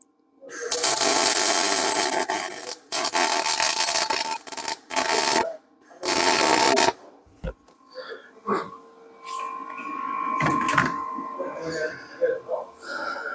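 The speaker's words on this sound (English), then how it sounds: "Put our nut on there. We'll weld that to it." A nut welded onto a steel stud against aluminium, several loud bursts of crackling, hissing arc noise in quick succession, then quieter clicks, scrapes and handling sounds.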